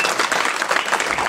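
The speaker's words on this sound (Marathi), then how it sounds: "जोरदार टाळी वाजवायची" An audience at a Marathi kirtan in Balkrishnanagar claps loudly in a dense, continuous burst of applause with no talk.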